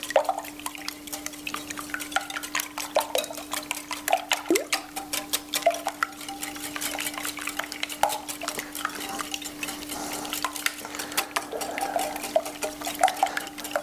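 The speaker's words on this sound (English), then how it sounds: "I'm going to use a whisk and make sure these eggs are beaten well" Eggs beaten hard with a whisk in a large mixing bowl make a rapid, steady clatter of wire against the bowl, close and continuous throughout with no talking.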